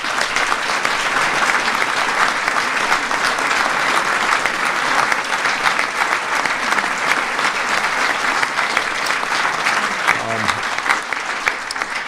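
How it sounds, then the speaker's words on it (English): Sustained audience applause fills a large event hall with members of Congress present, a dense steady wash of many hands clapping throughout, with a brief low voice or murmur near the end. "Please give them a big round of applause."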